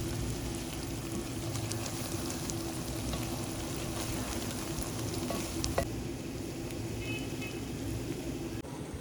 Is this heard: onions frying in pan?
yes